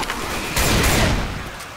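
Burst of gunfire in the video game Left 4 Dead 2, a dense rumbling volley that swells midway and fades, loud and close with no speech over it.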